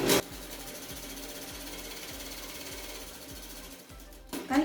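A sewing machine stitching a blouse sleeve runs in a steady rhythmic chug of regular needle strokes for about four seconds, slowing near the end, with brief louder handling noises at the start and finish.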